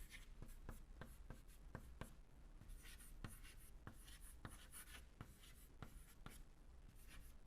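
Chalk or marker writing on a board during a determinant explanation, a series of short scratchy strokes and taps in uneven rhythm, close and clear with quiet room noise behind.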